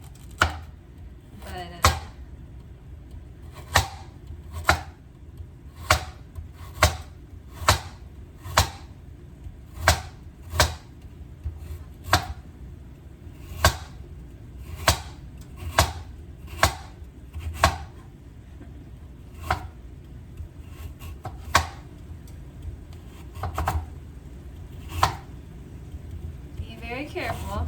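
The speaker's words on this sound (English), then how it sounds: "I'm gonna try to chop these up really small because I don't like big carrots in my soup" A knife chops carrots on a cutting board in steady, sharp strokes, roughly twenty crisp close knocks at an even pace with short pauses, and a voice speaks briefly between them.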